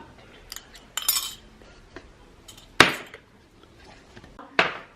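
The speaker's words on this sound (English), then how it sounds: "So we're going to mix them around" A utensil clinks and scrapes against a bowl while vinegar, olive oil, salt and pepper are mixed into a Greek salad dressing, with soft intermittent taps and three sharper, louder strikes spread across the quiet stretch.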